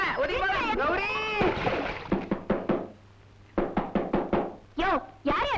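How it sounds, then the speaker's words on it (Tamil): A series of loud, sharp knocks on a garden door comes in quick clusters between bursts of excited, overlapping talk, with the knocks near and prominent. "யாரையா தோட்டத்துக்கு கதவை தட்டுறது?"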